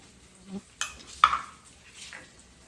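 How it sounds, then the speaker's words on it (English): A dressing of kosher salt, curry powder, honey and lemon juice being whisked in a bowl gives a few light clinks and scrapes of utensil against the dish, quiet and close. "So we're just going to whisk this together."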